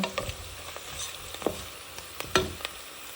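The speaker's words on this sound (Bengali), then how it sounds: "এখন পেঁয়াজটাকে আমি ব্রাউন কালার করে নেব" Onions browning in ghee with bay leaf, cinnamon, cardamom and cloves give a steady close sizzle, broken by occasional sharp scrapes and stirring clatters from a utensil.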